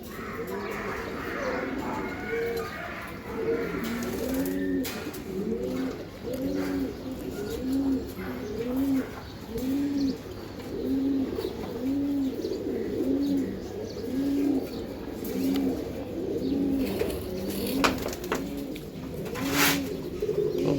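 Giribaz high-flyer pigeons coo at a farm in a steady run of soft, rhythmic rolling calls, close and continuous, with chirps and background noise around them.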